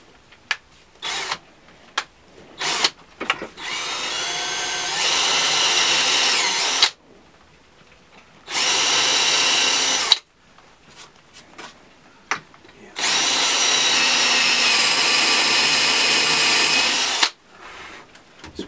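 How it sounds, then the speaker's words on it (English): A power drill with a countersinking bit drives pilot screws into wood while building a steam-bending form for a Windsor chair: several long, loud whirring runs lasting a few seconds each, separated by short bursts and quiet pauses. "I'm using one of these countersinking bits on my drill."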